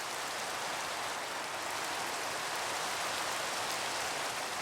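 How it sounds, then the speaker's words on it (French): Steady, dense rain falls continuously in Minecraft, an even hiss of droplets with no breaks or other sounds. "Il pleut, ça me saoule."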